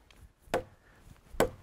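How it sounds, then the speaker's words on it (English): A butcher knife chops into a hardwood log outdoors while cutting down a tree, with two sharp, loud wooden thwacks about a second apart. "Would you imagine taking your butcher knife out and chopping a log in two?"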